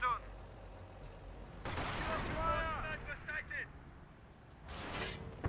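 Snipers and other small arms fire in a Company of Heroes battle as sharp, loud cracks and bursts, interleaved with battlefield commotion and voice lines from game units.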